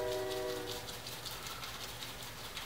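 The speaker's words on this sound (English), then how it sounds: "You may hear the train going by, folks." A train rolls past continuously at a moderate distance, a steady rumbling wash with brief horn-like tones near the start and no talking over it.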